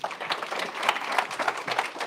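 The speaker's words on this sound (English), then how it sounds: "Big round of applause for Andrew Rabbit." Clapping from the audience at the FinTech North Leeds 2024 event as a speaker named Andrew Rabbit is welcomed, a moderate, uneven patter of hands from a modest crowd, fairly close and without talk.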